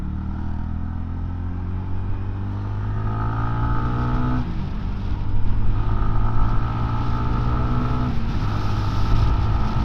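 A BSA 350 Bantam motorcycle drops down through the gears and accelerates, its engine note climbing in pitch, breaking at a gear change and climbing again under steady wind noise.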